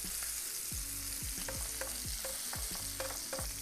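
Cilantro shrimp skewers sizzle steadily in a frying pan, a close, continuous hiss broken by repeated metallic clinks and scrapes of a utensil against the pan.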